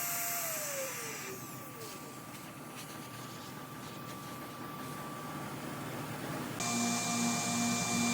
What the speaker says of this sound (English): this is a 23/32 router bit that I'm using